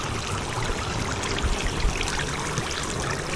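Water spraying and splashing at a children's outdoor splash pad on a warm day, a steady broadband hiss of falling droplets throughout, moderately loud and without talk.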